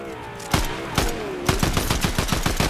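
Gunfire in the video game Fortnite starts as a few spaced single shots and then speeds into a fast, evenly paced string of sharp reports, loud and close, with a faint tonal sweep underneath and no speech.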